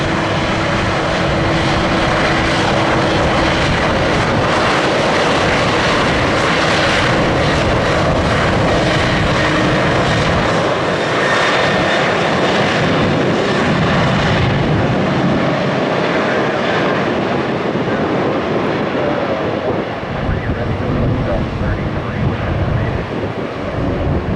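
Loud, sustained airliner jet engine roar at Tampa airport, with broad rushing noise and wind buffeting, filling the whole stretch without letting up.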